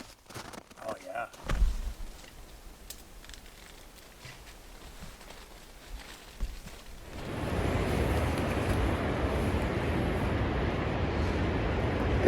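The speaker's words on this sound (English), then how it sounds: "It is windy." Strong wind buffets the microphone, building into a loud, constant roar in the second half after some scattered rustling and knocks.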